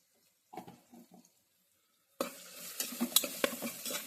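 Chili powder, turmeric and salt being stirred into dal khichdi: a few soft scrapes at first, then a sudden louder burst of sizzling with spoon clatter for the last couple of seconds.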